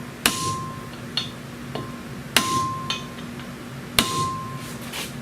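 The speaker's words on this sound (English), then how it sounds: "licking with the hammer" Sharp metallic hammer blows strike at the front wheel bearing of a 2010 Chevy Impala, with three heavy ringing hits interspersed with lighter taps, close and distinct in a quiet garage.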